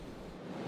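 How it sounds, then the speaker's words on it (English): Renforsen, a big river rapid at Vindeln, roars as a steady broadband rush of churning water, close and unbroken. "the big rapid Renforsen that we have behind me"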